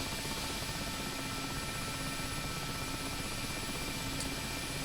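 Mi-8MTV2 helicopter sitting after touchdown in the DCS flight simulator, rotor and turbine noise holding as a steady, even, close whine and drone with no talking.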